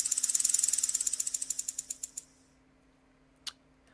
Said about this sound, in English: it's the sound of a rattlesnake.